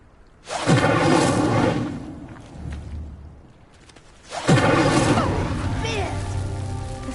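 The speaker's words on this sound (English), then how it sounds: "Conjuring fire might work. These are pyres after all. Incendio!" Two whooshing bursts of conjured fire from the Incendio spell lighting pyres in Hogwarts Legacy, each a sudden loud flare that roars and crackles before fading.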